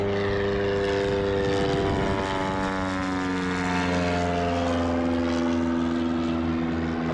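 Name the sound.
Husky airplane engine roar flying at competition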